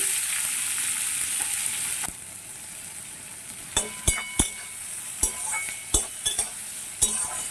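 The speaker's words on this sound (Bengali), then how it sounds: "পেঁয়াজটা একটু ভেজে নেব" Chopped onions fry in oil with a constant sizzle. In the second half a spatula clacks sharply against the pan in an irregular series of hits while stirring.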